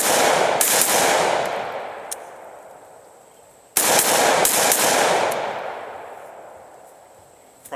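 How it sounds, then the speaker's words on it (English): Polish Tantal rifle, an AK-74 variant, firing 7N6 rounds at a box outdoors: two loud, sharp shots about four seconds apart, each followed by a long echoing decay, with no talking. "right now we're going to take some shots here at the box"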